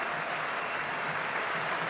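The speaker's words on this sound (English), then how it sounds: "And listen to the applause." Faint, distant crowd applause rises steadily around the Sydney Cricket Ground as a batsman walks off after his final Test innings, continuous and broad without a break.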